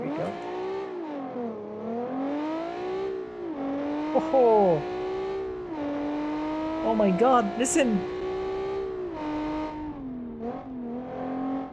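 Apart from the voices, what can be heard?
V6 rear-wheel drive race car engine revving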